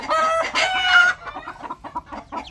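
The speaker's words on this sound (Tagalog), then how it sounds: "Barako din yun." A rooster on a backyard poultry farm crows loudly and close, one long call followed by a series of softer clucks and rhythmic calls.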